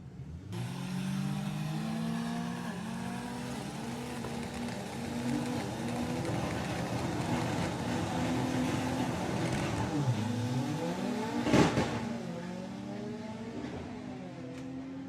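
A small VW-engined altered drag car at a Santa Pod drag racing event roars off the line and accelerates hard down the strip, its engine pitch climbing through gear changes, loud and continuous with a sharp crack near the end.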